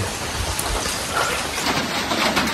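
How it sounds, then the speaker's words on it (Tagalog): Heavy rain pours steadily during a river flood, a dense, close hiss of drops on surfaces without pause across the short stretch. "May lumalakas na rin yung ulan."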